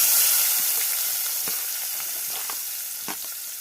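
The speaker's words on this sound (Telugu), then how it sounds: "నేను ఇప్పుడు ఇదే ఆయిల్లోనే ఉల్లిపాయలు వేసుకున్నాను ముందు." Onions frying in hot oil in a pan: a steady, close hissing sizzle with a few light stirring clicks, fading slightly over a few seconds and no voices.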